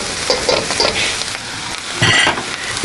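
Egg frying in a hot pan for special stir-fried rice, a steady close sizzle with scraping stir strokes and a louder burst of crackle near the end; no talking.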